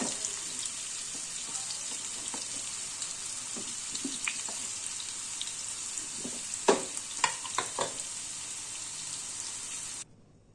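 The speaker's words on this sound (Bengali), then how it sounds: "এবার কুমড়োগুলোকেও আমি ভেজে নেব" Pumpkin pieces frying in hot oil in a home kitchen pan, a steady soft sizzle with scattered light pops and scrapes of a spatula, fairly quiet, then cutting off abruptly at the end.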